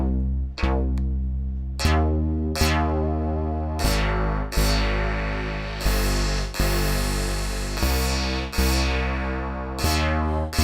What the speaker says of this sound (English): let's play this bass part on a loop and begin adjusting our frequency